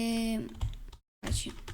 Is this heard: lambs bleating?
no